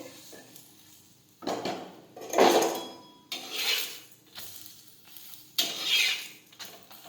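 Urad flour vadas are flipped in an oiled pan, with several distinct bursts of scraping and stirring against the pan over a soft sizzle. The sounds come close and one after another, and no one speaks.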